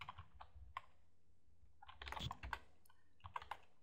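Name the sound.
typing on a computer keyboard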